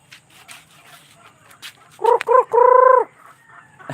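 Chickens on a Filipino backyard farm: faint scattered clucks, then a rooster crows loudly up close in two short bursts followed by one long sustained call.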